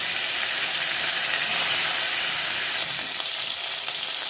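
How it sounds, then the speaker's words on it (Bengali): A fish head frying in hot mustard oil in a kadai gives a loud, steady, close sizzle and hiss that fills the whole stretch without pause, easing off slightly near the end. "তেলটা গরম হয়ে গেছে মাছের মাথাটা আমি ভেজে নেব"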